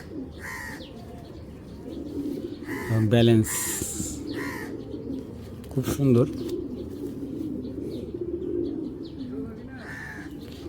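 A pair of racer pigeons coo in short repeated bursts nearby while someone talks over them, with a few chirps mixed in.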